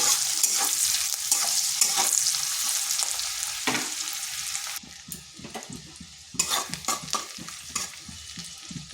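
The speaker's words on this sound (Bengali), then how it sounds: "পেঁয়াজটা হালকা ভেজে নিচ্ছি।" Sliced onion sizzling and frying in a pan for an egg curry, with a steady crackling hiss, occasional stirring scrapes and clatter, loud and close, no talk.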